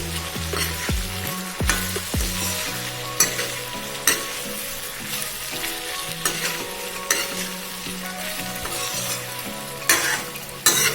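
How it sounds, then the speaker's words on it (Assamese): A spoon stirs and scrapes through thick elephant apple pickle with jaggery in a sizzling pan, with repeated knocks of metal against the pan. "গুড় দিয়াৰ পিছত মই এইদৰে মিলাই দিম।"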